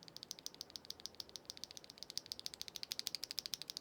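Rapid typing on an MCHOSE Ace 68 Air keyboard with magnetic switches and a closed bottom, a quick, even stream of crisp clacks that speeds up toward the end, close and alone with no talk.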